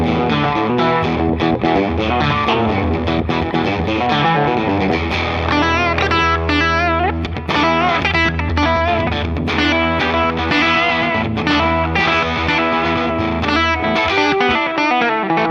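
A 1958–59 Gibson Les Paul electric guitar played through a small amp at low volume, a continuous overdriven bluesy passage with busy riffs and sustained notes, with no talking.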